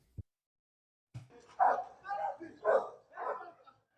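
A dog barks in a street, giving four loud, evenly spaced barks after a brief faint knock and a short pause.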